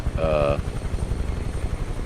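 UH-1 Huey helicopter in flight, its steady rotor thump and engine drone loud and continuous, with a brief voice heard near the start.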